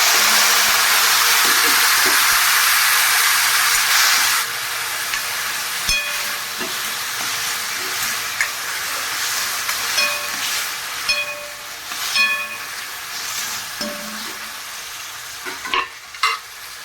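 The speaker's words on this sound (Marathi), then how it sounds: "मी आता याच्यामध्ये हे टॅमॅटो घालायचं" Tomatoes drop into a hot pan of garlic fried until reddish, setting off a loud, steady sizzle that settles into softer frying with occasional stirring scrapes and clicks.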